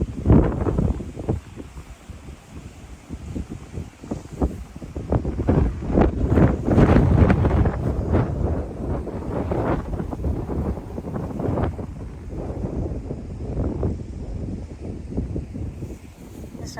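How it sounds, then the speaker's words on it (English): Strong wind gusts buffet the microphone outdoors in a cemetery, a continuous low roar that swells louder in the middle and keeps blowing throughout. "so windy."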